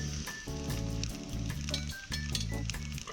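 Steady sizzling of food frying in a pan on a gas stove at a campground, close and continuous, with faint clinks of utensils now and then.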